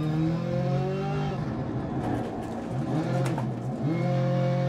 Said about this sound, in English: I think the engine's down on power too. It just didn't sound like it's singing on tune.